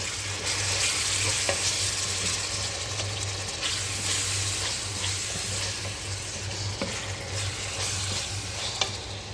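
Capsicum and tomato frying together in a pan give a steady, close sizzle with occasional stirring scrapes throughout, no voices heard.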